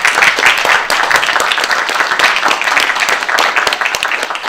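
An audience at a Korean art song concert honouring a late composer gives loud, sustained applause to welcome a guest poet, a full close wash of clapping that runs the whole time with no talk.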